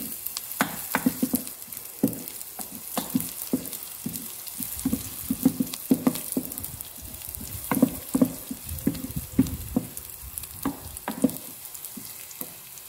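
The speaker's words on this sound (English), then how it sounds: "I think you should put garlic now because they have started being brown." Garlic sizzling and frying in a pan while cooking pasta, a steady crackling sizzle with irregular sharp pops and occasional stirring clatter, close and alone with no talk.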